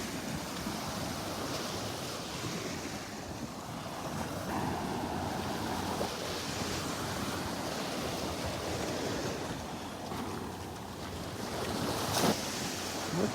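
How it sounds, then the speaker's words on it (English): Ocean surf rolling onto a beach in North Naples, Florida, a steady, continuous wash of waves with some wind across the microphone, moderately loud and unbroken throughout, with no voices. "There's nothing like the ocean."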